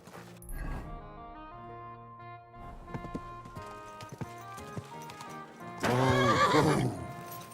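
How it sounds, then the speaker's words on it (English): In the video game Kingdom Come: Deliverance II, a horse whinnies, hooves clop in an uneven rhythm over a steady musical drone, then a loud, drawn-out neigh rises near the end. "Easy, good horse."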